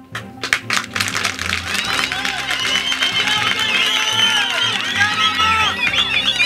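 An audience at a public meeting breaks into applause, a crowd of clapping hands with cheering and chatter mixed in, sustained and fairly loud, with voices audible underneath.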